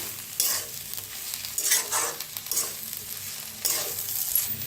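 A spatula scrapes and tosses garlic masala okra coated in peanut powder around a hot frying pan, with a few distinct stirring strokes over a constant light sizzle and no one speaking.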